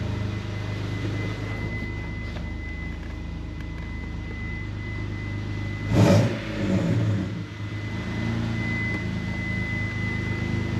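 Dodge Stealth R/T engine with a full performance exhaust idling steadily, then one short blip of revving partway through that swells and falls back to a low, rumbling idle, recorded close by.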